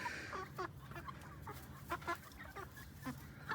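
English Orpington chickens on a farm cluck in a scattered, irregular series of short calls, some near and some farther off, over a low steady background hum, with no talking.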